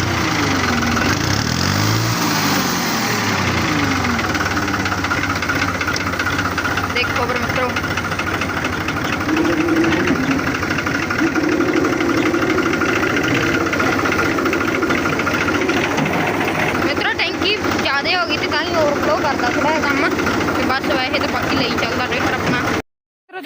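A heavy tractor engine runs continuously close by, a loud rumbling idle with a steady knocking pulse and some voices faint under it.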